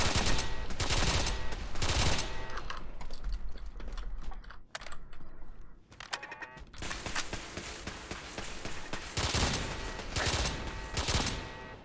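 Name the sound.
security turrets firing in the video game Fallout 4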